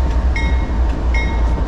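Freight train rolling on the Lehigh/CSAO rail line, a loud steady rumble of railcars with faint rhythmic clicks, heard up close with no talk.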